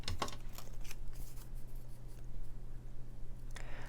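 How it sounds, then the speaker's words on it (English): Scissors snip paper pieces for a handmade card, faint close-up cutting and rustling strokes over a steady low background hum. "I'm going to cut them both down a little bit so that it'll show a little bit better"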